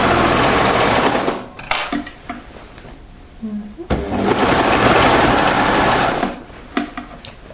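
A sewing machine runs in bursts, stitching the seam of a French terry sweater, with loud steady whirring stretches broken by brief pauses and handling clatter.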